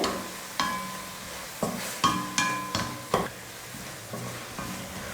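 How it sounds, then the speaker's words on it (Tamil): Spinach sautéing with salt in a pan for palak dal, a soft sizzle broken by a series of sharp clanks as a spoon stirs and scrapes the pan at irregular intervals, with no one talking. "கீரைக்கு தேவையான உப்பு போட்டு நல்லா வதக்கிக்கலாம்."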